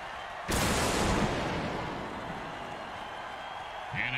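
Crowd roar erupts suddenly in an American football video game after a defensive offside play, a loud broadband cheer that swells then slowly fades, with a commentator's voice briefly returning near the end.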